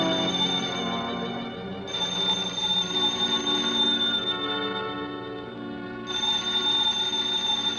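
A telephone rings as a sound effect in a vintage radio suspense drama, with two long, bright ringing bursts separated by a short pause, loud and close over a soft musical underscore.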